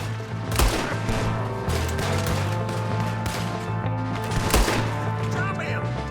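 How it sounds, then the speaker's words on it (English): Rifle gunfire during a Western shootout in Red Dead Redemption 2, with dense overlapping shots and scattered louder cracks over a busy, continuous game soundscape. "We got one shooting from the tower!"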